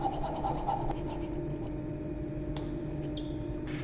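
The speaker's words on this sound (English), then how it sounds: "you could also use a coping saw or fret saw for this, so that's what I'm going to do" A coping saw cuts out the waste of a hand-cut wooden bridle joint, making a steady, close rasping scrape of repeated strokes that thins out partway through.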